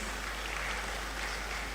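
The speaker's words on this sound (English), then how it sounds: "A round of applause as Albert comes." An audience at a drug-awareness campaign launch applauds in a dense, even patter of clapping that holds steady throughout without a break.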